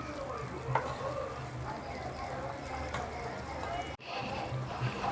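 Wheat halwa being stirred in a pan with ghee, a soft continuous scraping and thick bubbling close by, steady throughout with one brief dropout near the end.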